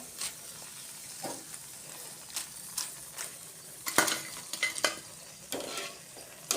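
Cauliflower fritters for Gobi Manchurian deep-fry in hot oil with a crisp, crackling sizzle, broken by sharp clinks of a utensil against the pan and an occasional louder scrape.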